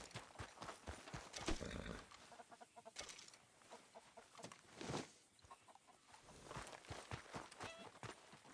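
Chickens cluck softly in the Red Dead Redemption 2 video game. The clucking mixes with a horse's clip-clopping hooves and other outdoor ranch ambience, and the overall level stays faint and fairly steady.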